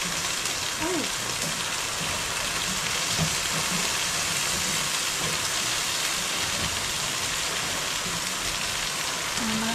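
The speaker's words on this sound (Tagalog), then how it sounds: "malakas ang ulan sa gabi hanggang ngayon" Heavy night rain pours steadily, a dense, unbroken hiss of drops on surfaces with no pauses, close and loud throughout.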